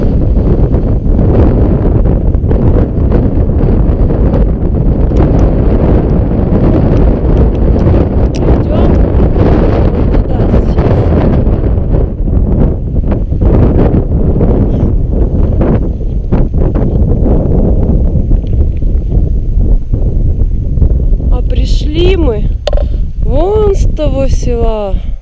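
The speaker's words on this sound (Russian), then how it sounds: "Сильно дует ветер, что не есть хорошо" Strong wind on a mountain summit buffets the microphone in a loud, continuous roar with rumbling gusts; a voice briefly speaks near the end.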